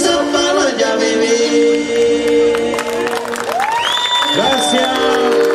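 Crowd at a live polka and chamamé music festival applauds and cheers, with whistles and whoops rising over sustained clapping, and voices mixed in.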